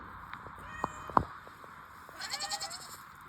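Cats meow in a farm shelter where the barn cats are fed, with a couple of short sharp cries early and a longer wavering meow toward the end, against a quiet background.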